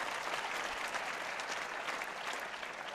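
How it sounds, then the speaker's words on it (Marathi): An audience at a commemorative lecture claps steadily to welcome a guest speaker, a dense, even wash of applause that holds at a fairly soft level throughout with no voices over it. "सर्वांनी टाळ्या वाजवून त्यांचं स्वागत करावं"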